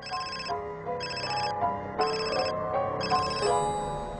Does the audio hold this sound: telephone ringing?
yes